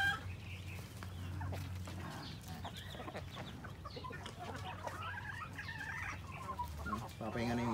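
Several free-range chickens cluck softly and continuously nearby, with scattered higher calls, over a low steady background hum.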